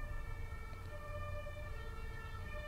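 A wailing emergency vehicle siren passes outside in Munich's Isarvorstadt, steady layered tones held over a low traffic rumble, somewhat muffled and distant, with no voices.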